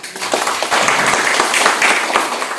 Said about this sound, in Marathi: त्याच्यासाठी आपण टाळी वाजूया